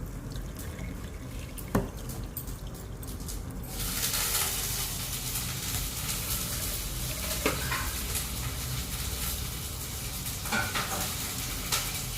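Homemade ghee simmers and foams in a pan with a steady, soft bubbling sizzle and a few faint clinks, quiet and continuous throughout.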